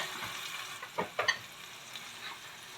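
Bok choy sautéing in a hot pan: a steady sizzle with a few sharp stirring scrapes near the middle, close and fairly quiet, no talking.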